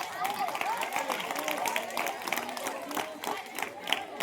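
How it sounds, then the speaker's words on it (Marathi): An audience at a Marathi storytelling performance breaks into loud applause, a dense, crackling wash of clapping and crowd noise that continues throughout with voices mixed in. "त्याच्यासाठी जोरदार टाळ्या."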